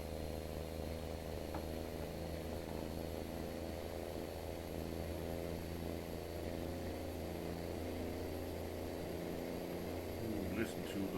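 A truck engine in American Truck Simulator drones at highway speed around 85, a steady low harmonic hum with a faint airplane-like whine, fairly quiet and continuous throughout.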